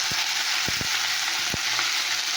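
Leafy greens frying with garlic in a pan, a continuous bright sizzle broken by a few dull knocks of stirring, with no voices.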